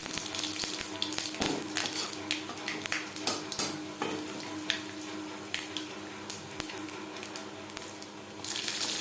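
Panch phoron spices fry in oil with bay leaf and chillies, giving a close sizzle broken by scraping stirs and clinks at an uneven rhythm, with no voices.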